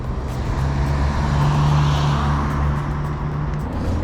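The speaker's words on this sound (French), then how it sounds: "Je vais attendre que la voiture elle passe quand même." A car passes along a street at night, a steady engine and tyre rumble swelling and fading, fairly close with a low hum throughout.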